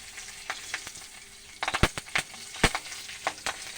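Nigella seeds and torn green chillies frying in hot oil, a steady close crackle broken by sharp pops and spits that cluster in the second half.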